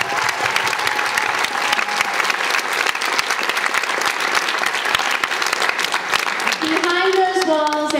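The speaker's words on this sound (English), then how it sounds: "So please, a round of applause." A theatre audience at a Guys and Dolls stage production claps loudly in a dense, sustained burst of applause, with cheering voices rising near the end.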